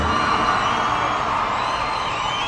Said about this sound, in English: All the fans were cheering for you